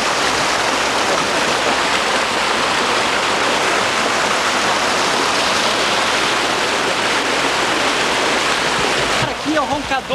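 The Roncador waterfall, a cascade along a stream near Santa Margarida do Sul, roars in a loud, dense, unbroken rush of falling water that fills the whole scene.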